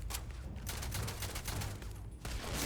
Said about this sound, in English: Barrett, please shoot that robot more than you are